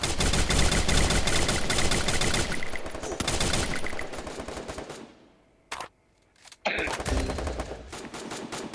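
Rapid automatic gunfire in a video game, dense bursts of shots that break off briefly into near silence with a couple of isolated reports, then resume in fast repeated bursts.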